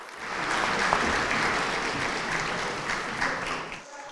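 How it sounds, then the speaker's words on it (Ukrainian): Standing applause for doctors receiving awards at a city council session, a sustained wash of many hands clapping that swells, holds steady and then tapers off near the end. "Медиків вітали стоячи із оплесками."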